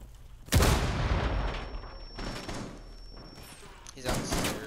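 A grenade detonates in Rainbow Six Siege during a room fight, a sudden loud close blast with booming low rumble, followed by further impacts and bangs with players talking over the action.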